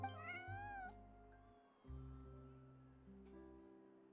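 A cat in Genshin Impact gives a few soft meows, a higher call at the start followed by lower drawn-out tones, set over quiet sustained game music.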